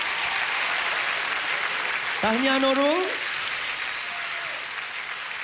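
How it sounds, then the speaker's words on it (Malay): Audience applause at an awards finals as winner Nurul is announced, a steady broad wash of clapping throughout, with a voice briefly speaking over it midway. "berikan tepukan untuk"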